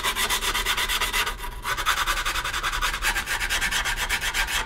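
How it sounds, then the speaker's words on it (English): Sandpaper rasps around the edges of grip tape on a 9-inch skateboard deck in loud, close, rhythmic back-and-forth strokes that continue steadily with only a brief break. "we'll still sand down all the way around"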